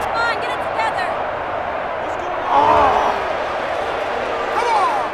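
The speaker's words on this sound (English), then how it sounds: "this crowd does not like that call" Stadium crowd in the Madden NFL 21 video game, Steelers versus Broncos, roaring in disapproval at a penalty call, a broad continuous crowd noise that swells loudly in the middle and again near the end.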